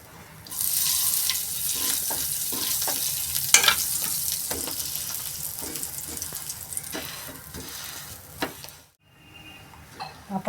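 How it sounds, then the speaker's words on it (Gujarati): Pav buns roast in ghee in a pan with bhaji masala, a continuous fry and sizzle broken by scraping stirs and light clinks of utensil on metal before a brief pause. "હવે આપણે પાઉંને ઘીમાં શેકીશું."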